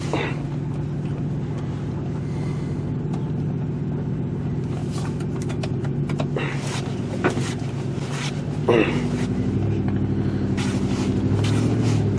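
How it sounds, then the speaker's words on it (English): A Ford Explorer on a short test drive after front wheel bearing work, heard from inside as a steady loud engine and road drone with a shift in pitch partway through as it speeds up, no talking. "Take this thing out for a quick test drive."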